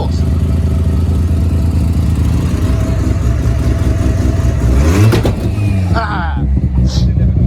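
A Mazda RX7 FD with a big-turbo semi-peripheral-port rotary engine idles roughly and loudly, then revs sharply in a rising burst before settling, with voices audible over the engine.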